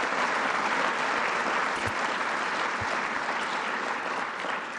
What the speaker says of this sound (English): Reverend Richardson, let's give him a round of applause